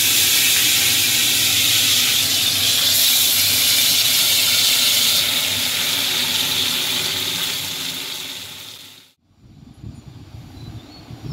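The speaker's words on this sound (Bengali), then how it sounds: "কড়াই গরম হয়ে গেছে, এবার লো টু মিডিয়াম আছে একদম মাছটা ভাজবো" Thick pieces of fish fry on low-to-medium heat in a hot wok, a dense steady hissing sizzle that fades and cuts off abruptly near the end, followed by quieter low background noise.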